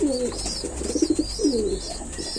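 Pigeons coo close by in soft, throaty bursts, a few repeated rolling calls over a faint background hum.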